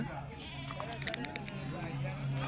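Sheep and goats bleat repeatedly at a busy weekly sheep and goat market in Kanigiri, with a steady crowd murmur and people talking close by throughout.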